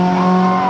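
Subaru car exhaust at a car meet, a brief, loud, steady droning engine note held close with no talk.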